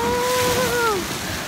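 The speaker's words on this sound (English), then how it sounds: "Oh, the water's blowing in right now." Wind-driven water and waves wash in at a lagoon as a loud, steady roar of surf and wind noise, with a faint, thin whistling tone gliding through it.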